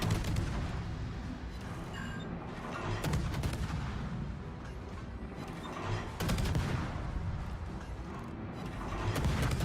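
Naval guns boom from warships in the World of Warships game, a dense, continuous rumble of salvos with heavier blasts swelling around the middle and later on.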